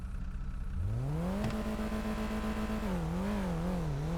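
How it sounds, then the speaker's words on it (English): A car engine in a roleplay driving game revs steadily upward and then holds a high, sustained drone that wavers up and down, loud and continuous, with no talking. "Now he's revving his vehicle"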